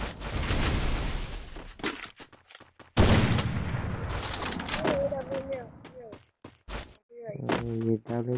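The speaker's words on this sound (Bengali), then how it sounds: "স্নাইপার চালাবো" Sniper rifle fire in a shooting video game: sharp, loud shots with broad bursts around the first and third seconds, followed by scattered clicks and softer in-game effects, with a brief voice-like tone near the end.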